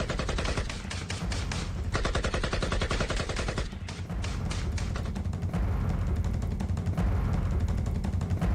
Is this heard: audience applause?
no